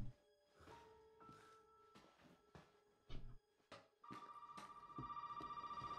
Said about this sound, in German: Das Telefon klingelt.